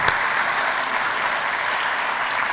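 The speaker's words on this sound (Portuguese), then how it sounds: "Eu peço um aplauso para o nosso painel." An audience at a 2015 smart cities conference claps for a panel, a dense, even round of applause filling the hall throughout.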